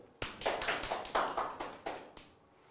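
A small group at a toast-making lecture claps roughly ten times in a loose, uneven rhythm, close and fairly quiet, the claps spaced about a fifth of a second apart before trailing off.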